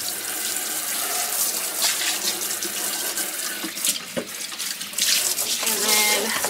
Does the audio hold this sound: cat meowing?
no